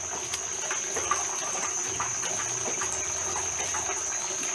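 Water rushes steadily at the Kalaniopea waterfall, a constant broadband hiss that stays fairly soft and even throughout, with no talking.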